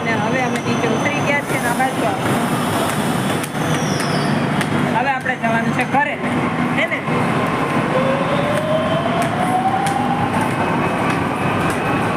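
A metro train runs along its line, producing a loud steady rumble and rolling noise that fills the whole stretch, with people chatting nearby and a brief rising whine partway through.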